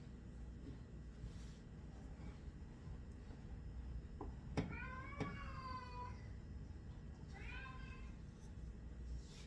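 A cat meows a few times with drawn-out, wavering calls, fairly close, over a steady low background hum.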